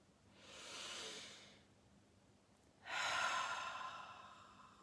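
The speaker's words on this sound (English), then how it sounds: "consciously breathing in through the nose, and just hold it for a moment" Two slow, soft airy breaths, in and out through the nose during a relaxation exercise, close and quiet with a pause between them and no talk.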